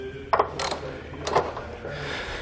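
Ratchet socket wrench working the front and center body mount bolts on a 2009 Jeep Wrangler, giving a few short ratcheting clicks in two separate bursts, close and moderately loud in a quiet garage.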